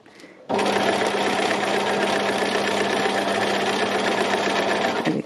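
A sewing machine stitches a fabric mountain shape down, starting abruptly and running loud and steady at an even whirring pace for about five seconds before stopping.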